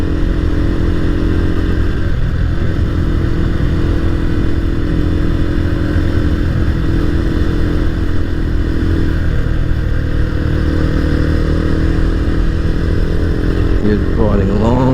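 Motorcycle engine droning steadily while riding on the road, loud and continuous with constant wind roar and a brief rising rev near the end.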